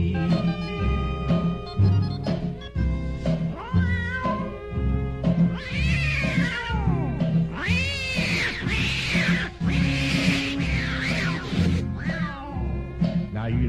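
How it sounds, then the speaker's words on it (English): Tomcats fight and caterwaul in a Halloween song: drawn-out, wailing meows and yowls rise and fall over a steady musical backing, loud and continuous throughout. "that old tomcat started a fight, and this is the way it all did sound to me"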